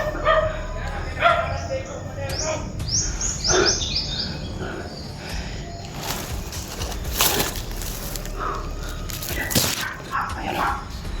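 Several dogs bark and yip in bursts around a person outdoors, some calls nearer and louder, with a whimpering note amid steady background noise and occasional speech.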